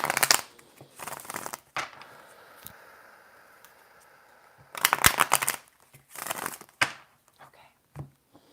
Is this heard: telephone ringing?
no